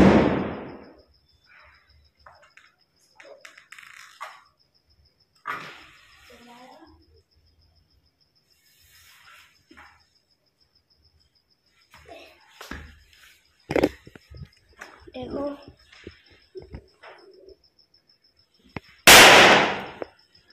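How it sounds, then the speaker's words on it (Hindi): Firecrackers bursting in a village during Diwali: a loud sharp burst near the start and another strong blast near the end, with scattered pops and people talking between them. "देखा आपने कैसे फूटा"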